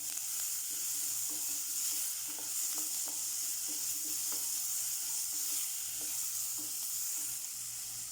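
Curry leaves and onion sauté in a pan for a chicken curry, a steady bright sizzle with regular soft stirring taps throughout, close and unbroken.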